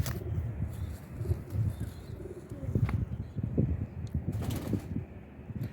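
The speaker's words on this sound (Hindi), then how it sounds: "ये जी ओरिजिनल इमामदीन कबूतरी है।" A female Imamdeen pigeon coos in low, repeated rolling calls, close by, with faint chirps from other birds around it.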